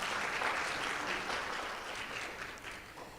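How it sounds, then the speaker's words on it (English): Conference delegates at a regional forum give a round of applause: a soft, distant, evenly sustained wash of many hands clapping that gradually tapers. "give Ms. Hannah a big warm round of applause"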